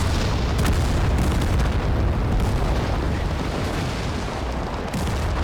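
RPGs fire and explode in the video game Total Conflict: Resistance, a dense, loud, continuous roar of booming blasts and rumbling impacts with no clear breaks between them.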